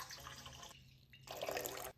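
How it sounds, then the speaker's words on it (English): A stream of water pours into a mixing bowl while sourdough bread dough is being started, a soft continuous rushing pour that pauses briefly and resumes, heard close and fairly quiet with no voices. "Add 700 grams of water to your bowl"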